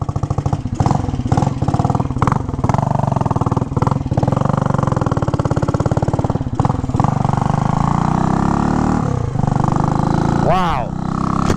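A 1967 Harley-Davidson H Sprint 250 with an opened-up custom exhaust rumbles close by, popping and revving with a throaty, uneven single-cylinder beat that rises and falls as it rides, under a voice at moments.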